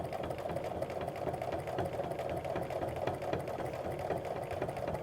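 Sewing machine stitching a quilt block along a ruler in rulerwork quilting, a steady fast mechanical whir with a dense needle rhythm, close and continuous, no voices.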